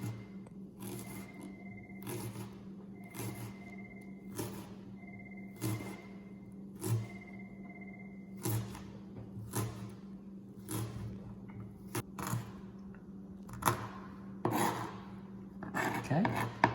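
A knife finely chopping onion for salsa on a board, giving a steady series of crisp, evenly spaced chops close up, with a constant low background hum.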